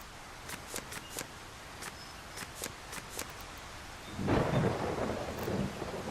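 A storm in the crafting survival game Solarpunk begins with faint scattered taps and drips, then a low rolling rumble of thunder swells in with rain near the end.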